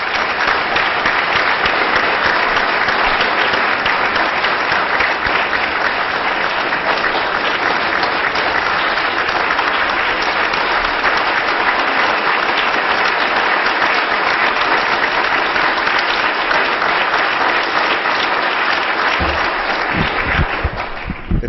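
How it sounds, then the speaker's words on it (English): An audience applauds steadily and loudly for about twenty seconds to welcome a speaker, a dense wash of clapping with no talk over it. "Let's give him a hand of welcome."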